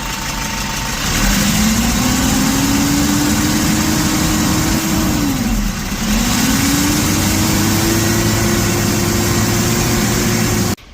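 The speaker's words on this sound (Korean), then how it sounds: "엔진 소리 엔진 소리를 한번 들어보겠습니다" A Kia Bongo 3 van engine runs close by with a loud mechanical roar and a rising whirring drone from a faulty fan clutch. It dips briefly in the middle, then climbs again and holds.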